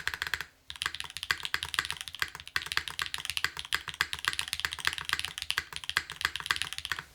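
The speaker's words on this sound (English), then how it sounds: "It does make the keyboard sound really good, too." Close, steady typing on a Keycult mechanical keyboard, a dense run of crisp keystrokes with a brief pause near the start and no talk over it.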